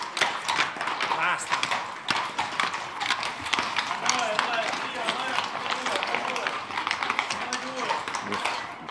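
Many horses' hooves clatter on pavement in a dense, overlapping clip-clop during a Sant'Antonio festival parade in Besozzo, heard steadily under people talking nearby.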